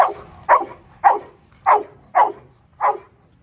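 Kane the Rottweiler lets out six sharp, evenly spaced barks with a whimpering edge, close and loud over faint background rumble.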